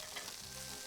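Food sizzles steadily in a pan in a cooking game, a continuous bright hiss of frying with no voices over it.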